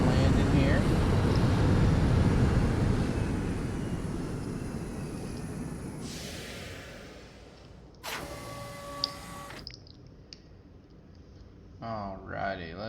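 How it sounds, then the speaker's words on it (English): A small colonist spaceship touching down in the space-colony game Planet Base, a loud whooshing rumble that fades gradually, followed by quieter mechanical bursts and chimes. "Got our little space colonist ship landing here"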